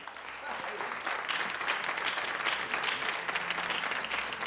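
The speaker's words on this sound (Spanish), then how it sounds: "Un aplauso para Sabu" Studio audience applause on a talk show, a continuous, fairly full burst of many hands clapping that holds steady, with a voice faintly speaking beneath it.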